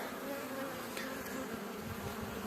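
A steady, dense buzzing of many Carniolan honeybees close by at the hive, a continuous low drone with no talk.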